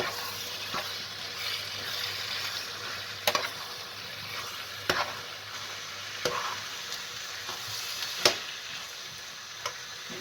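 Fresh herbs such as dill, basil, coriander and parsley stirred into a frying black lung dish, with a steady sizzle throughout and a few sharp utensil clicks against the pan.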